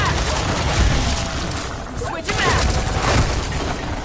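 Friendly gunfire in a video game rattles out as dense, loud bursts of shots, briefly easing off midway before resuming, while a person shouts over the shooting.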